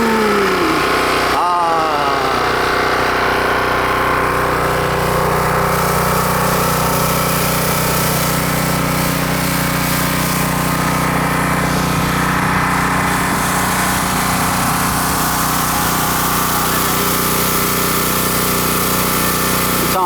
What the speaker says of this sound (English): we got the pressure washer running